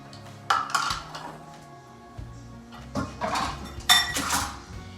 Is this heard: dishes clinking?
yes